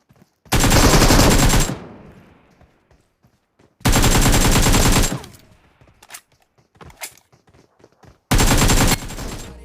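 Automatic gunfire in the battle-royale game BGMI, heard as three loud, sustained bursts separated by short pauses and a few quieter shots, while enemy players are knocked down.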